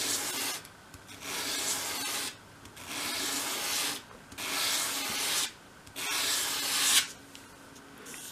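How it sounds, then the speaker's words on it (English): Sandpaper rasps against a wooden piece held at a 45-degree angle to cut a bevel for a 1/12th scale three-drawer chest, five steady strokes repeating in a regular rhythm with brief pauses between, close and fairly loud. "So with your sandpaper flat on your work surface, hold the piece at a 45 degree angle, and as you bring it towards you"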